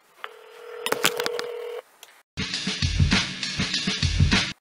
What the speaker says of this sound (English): Ladies and gentlemen, I'm calling Kay Picklefield, Keith of Patriot Warrior Media.